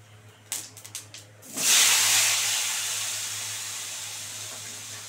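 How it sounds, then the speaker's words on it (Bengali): Potatoes tipped into hot oil with cumin seeds, bursting into a loud, close sizzle after a few light clinks and slowly settling to a steady hiss. "আলুগুলো একদম লাল করে ভাজবো।"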